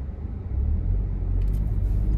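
A 2024 Peugeot 208 Style with a 1.0 engine drones while driving, a steady low rumble of engine and road noise heard from inside the car that rises slightly after the first half-second.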